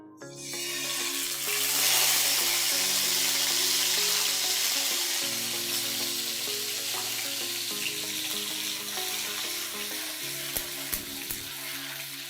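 Tomato puree hits hot oil in a pan and fries with a loud, continuous sizzle that holds steady throughout, with faint stirring underneath.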